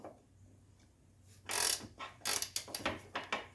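A wrench loosens the upper control arm nut on a 1979 Mercedes 300SD. Close, sharp ratcheting clicks come in a loud burst, then several quicker bursts follow, over a quiet background hum.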